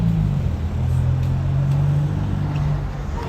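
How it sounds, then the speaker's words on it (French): A Ferrari Roma drives past on a Paris street, a close, steady engine hum with a low tone that rises slightly and then eases, with no voices. "Ferrari Roma à présent."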